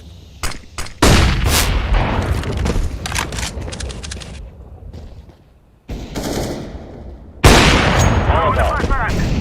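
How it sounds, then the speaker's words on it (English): Flashbang grenades and gunfire in Counter-Strike: Global Offensive: loud repeated bursts and sharp cracks with brief gaps, ending in a sustained roar. "Deploying flashbang."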